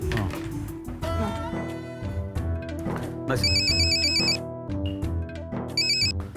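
A melodic phone ringtone plays loudly and continuously, its tune repeating with bright electronic tones.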